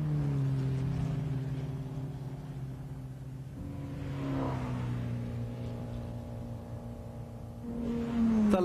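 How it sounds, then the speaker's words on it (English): Formula 2 Porsche race cars lap the Nordschleife in 1957, a steady engine drone holding pitch with a shift partway through and a rising note near the end, continuous and moderately loud. "The Formula 2 Porsches keep circulating."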